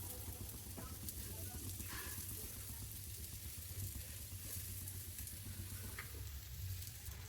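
Brinjal slices fry in oil on a hot tawa, a steady faint hissing sizzle with soft stirring ticks, continuous and even with no talk.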